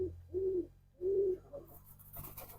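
A pigeon in a pigeon loft gives low, rounded coos, three close calls in quick succession, near and clear over a quiet background, followed by faint rustling.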